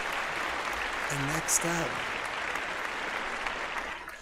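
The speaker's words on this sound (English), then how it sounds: "And a big round of applause for Levin." An audience applauds for Levin on a paranormal call-in show, a dense, steady clapping that carries throughout while a host speaks briefly over it.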